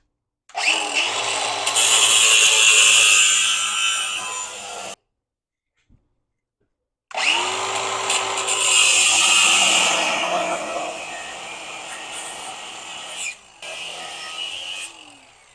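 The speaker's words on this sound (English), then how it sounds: "I'm just going to take a cut-off wheel, and I'm just going to cut this right here" A cut-off wheel grinds through a Subaru rear wheel bearing hub in two sustained, loud bursts of harsh high-pitched abrasive whine, split by a brief pause, with the tool spinning down between cuts.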